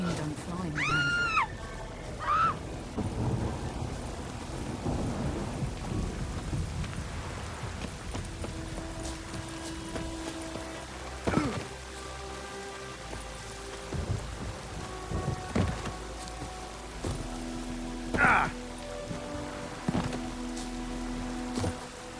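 Steady rain with rolling thunder fills a thunderstorm in The Witcher 3, with low rumbles swelling and fading across the scene while voices speak and shout over the downpour.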